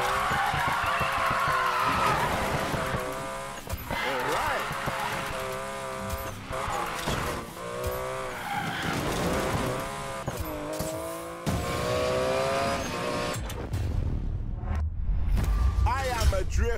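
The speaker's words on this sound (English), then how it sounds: "This is what drifting is about." A car drifts in Need for Speed Payback, with engine revving and wavering tire squeal rising and falling across the slide, close and loud, while voices talk over it.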